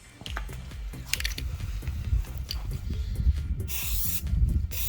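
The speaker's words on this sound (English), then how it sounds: "I think I'm going to do more continuous spraying" A spray paint can hisses in bursts and a longer continuous spray over a Roland AX Edge keytar body, alongside close handling clatter and small knocks.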